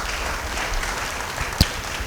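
A church congregation applauds during a sermon, a soft steady patter of many hands clapping at a distance, with one sharp knock partway through.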